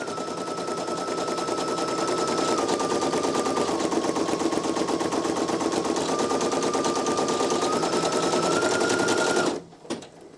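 A Brother PE-900 embroidery machine stitches out a design, its steady rapid needle clatter running continuously and loud up close for about nine seconds before stopping abruptly.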